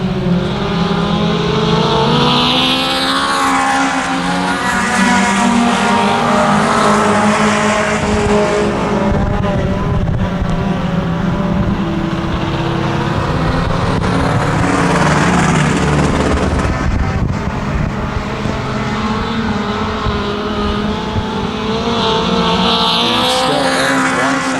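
Mini stock race cars roar around a dirt oval, engines loud and continuous with rising and falling revs as the pack passes close by, no voices over them.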